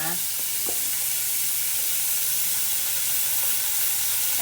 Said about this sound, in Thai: ต่อไปเราจะมาย่างสเต็กนะคะ